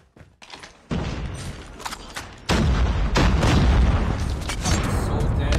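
A grenade goes off in a video game, a heavy boom at about two and a half seconds followed by sustained loud rumbling and crackle, with earlier muffled blasts and gunfire before it.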